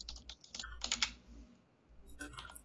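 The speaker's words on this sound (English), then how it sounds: "Keep typing. Ignore me." Close, quiet typing on a computer keyboard in bursts of rapid clicks, pausing midway and then resuming briefly, with a faint voice in the background.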